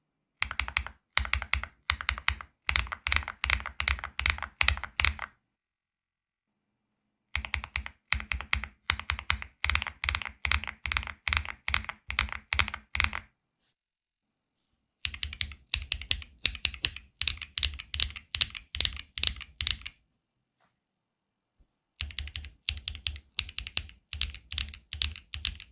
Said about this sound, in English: Let's compare the sound of the TCR and B1 shafts.